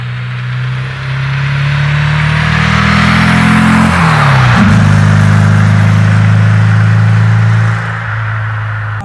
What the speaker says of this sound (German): Er hat ja auch die scharfe Auspuffanlage drunter, was man am Sound hört.